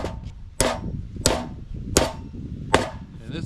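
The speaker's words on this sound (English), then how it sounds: "Let's drive a 16" Four sharp, evenly spaced framing hammer blows ring out close by, each a crisp metallic strike driving a 16d nail, with brief quiet between hits.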